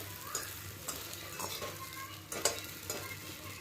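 Quiet sizzling of dhokla being stir-fried in a pan, with scraping stir strokes and occasional clinks of a spoon against the metal.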